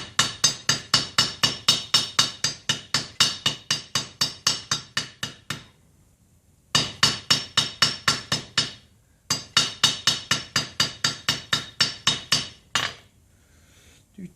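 A hammer forges a silver ring in rapid, regular metallic strikes, close and loud, falling into three runs of ringing blows separated by short pauses.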